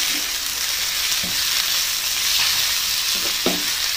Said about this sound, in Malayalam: ഇതെല്ലാം കൂടെ നന്നായിട്ടൊന്ന്